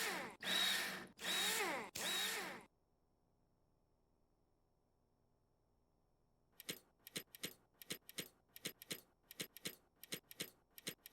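Three loud, sustained electric screwdriver whirs drive screws in during a Rover Mechanic Simulator repair, followed by silence and then a rapid run of sharp clicking ticks.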